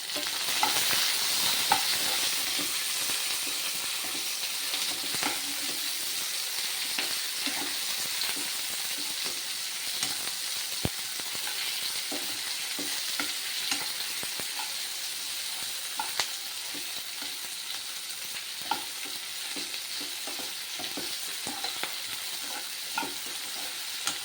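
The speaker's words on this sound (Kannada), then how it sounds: "ಅದ್ರ ಜೊತೆಲಿ ಈರುಳ್ಳಿ, ಟೊಮೆಟೊ ಎಲ್ಲನೂ ಹಾಕಿ ಸ್ವಲ್ಪ ಫ್ರೈ ಮಾಡ್ಕೊತೀನಿ." Onion, tomato and green and dried chillies fry in a pan for chicken with gongura, giving a steady close sizzle broken by frequent light scrapes and taps as the mix is stirred throughout, with no talking.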